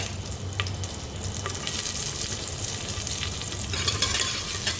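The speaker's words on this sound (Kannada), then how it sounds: "ಚೆನ್ನಾಗಿ ಫ್ರೈ ಮಾಡ್ಕೊಳ್ಳಿ." Green chillies and fennel seeds fry in oil in a pan for a dill and fenugreek leaf pulao, giving a steady close sizzle with occasional stirring scrapes and no talk.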